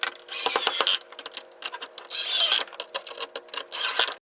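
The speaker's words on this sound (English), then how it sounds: "Just go ahead and screw these screws back in." Screws are driven back into an aftermarket GM tow mirror on a Silverado or Sierra truck, producing close, loud bursts of ratcheting, clicking mechanical noise in uneven spurts with brief pauses.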